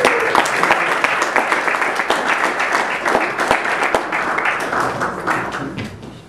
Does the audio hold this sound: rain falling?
no